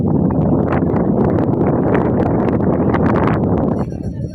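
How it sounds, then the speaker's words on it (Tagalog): Strong wind buffets the microphone at a campsite in Barangay Talbak, Doña Remedios Trinidad, Bulacan, a continuous loud rumbling rush that eases slightly near the end. "Mahangin na naman dito mga kababayan."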